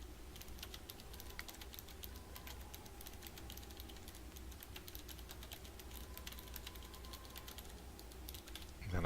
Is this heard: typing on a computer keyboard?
yes